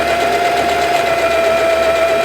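A sewing machine runs steadily, top stitching along the folded edges of dress fabric, with a continuous close motor whir and a hum that holds without pause for about two seconds before stopping abruptly.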